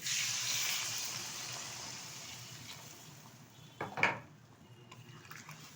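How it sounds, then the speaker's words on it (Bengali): Water pours into a pan of potato and pointed gourd curry simmering for a prawn rasa, a soft steady rush that fades, then a brief clatter of a utensil against the pan near the end. "এখন দিয়ে দেবো এর মধ্যে পরিমাণ মতো জল।"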